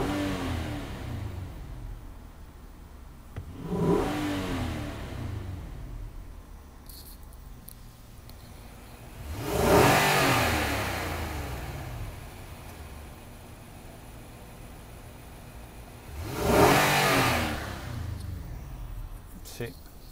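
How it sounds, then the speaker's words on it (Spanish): A 2018 Nissan Armada/Patrol engine revving three times, each a short rising-and-falling surge over a steady idle, spaced several seconds apart and close by. "Vamos a acelerarlo un poquito."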